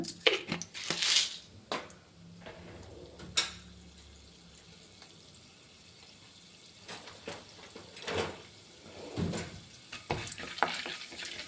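Chana dal, split chickpeas, fries in a pan with a low steady sizzle, broken by scattered clinks and scrapes of a spoon stirring against the pan, close and fairly quiet.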